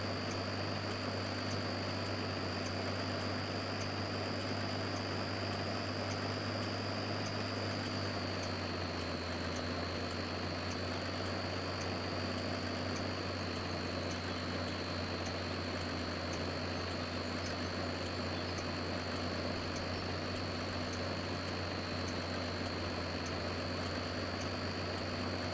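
A tractor engine idles steadily in the Farming Simulator 2013 video game, a continuous low drone with a high whine that dips slightly partway through, with no talk.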